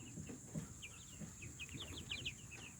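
Meat bird chickens on a homestead cluck and chirp softly, with scattered short calls repeating throughout over a low ambient hum and faint background bustle.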